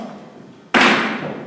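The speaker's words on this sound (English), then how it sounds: "Okay, the cane has to go on the floor." A walking cane set down on the floor lands with one sudden, fairly loud thud, followed by a brief lingering room rustle; quiet room tone before it.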